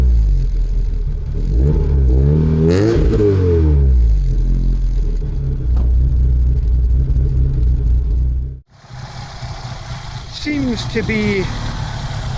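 A Vauxhall Cavalier's C20XE engine turns over and settles into a steady idle with a faint murmur, loud and close, while a voice talks over it.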